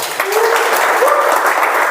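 Applause for a member at a Toastmasters club milestone meeting, a dense, steady burst of clapping from the audience filling the short moment.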